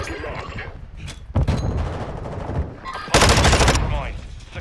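Close, loud bursts of automatic gunfire in a Call of Duty ranked Hardpoint match crack out in several volleys, the longest near the end, with game chatter underneath.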